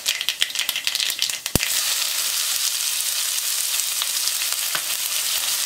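Finely chopped onion hits hot oil with mustard seeds and cumin in a kadai, giving a sharp crackle and then a steady, loud sizzle that holds throughout with no talking.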